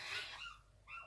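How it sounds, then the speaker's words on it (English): Outside an open window, a neighbour's small dog yaps in a couple of quick, faint, distant barks. "Someone's yapping dog is giving it yaldy."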